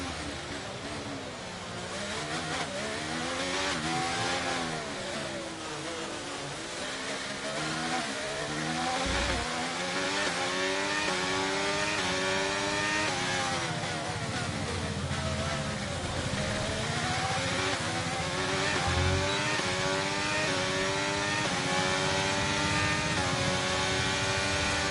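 An F1 race car in the video game F1 2023 accelerates hard, its high engine note climbing and dropping through repeated gear shifts in a loud, continuous whine.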